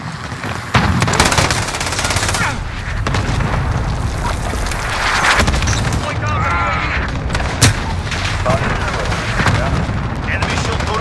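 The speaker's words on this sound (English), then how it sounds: "Enemy cluster strike. Take cover." Cluster strike explosions and bursts of automatic gunfire boom and rattle continuously in a Call of Duty: Modern Warfare multiplayer match, loud and dense, with in-game announcer voice lines mixed in.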